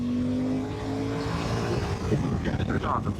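A motorcycle engine drones, then surges as it accelerates after braking on the SS65 Passo della Raticosa, its pitch climbing and growing rougher, with a voice talking over it.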